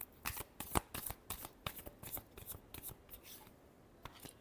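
A deck of tarot cards is shuffled by hand in a quiet room, giving a series of soft, quick riffling flicks and slaps in an uneven rhythm, heard close with no talk.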